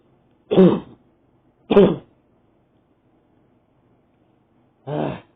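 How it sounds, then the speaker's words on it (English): Three short, separate bursts of coughing and throat clearing from one person, close and fairly loud, with silence between them and no speech. "Cannot stop coughing."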